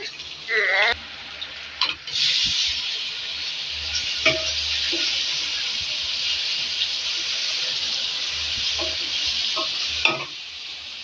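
Steady sizzling of tomatoes added to frying onions in a pan, with a few scraping stirs and clinks of a utensil throughout; no voices.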